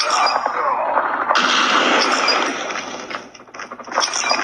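Gunfire from the mobile video game Call of Duty Mobile, played on a Xiaomi 11 Lite 5G NE phone, rings out as a dense, continuous burst of loud shots with clattering bursts near the end.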